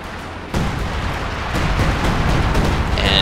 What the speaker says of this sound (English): It takes a little while for the heavy artillery barrage to come down.